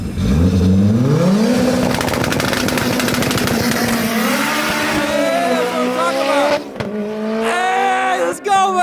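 An 8-rotor Mazda RX-7 drag car makes a loud, close run with a screaming rotary engine note climbing through the gears and a brief stumble at a missed shift to fourth, heavy wheel speed, with crowd noise mixed in.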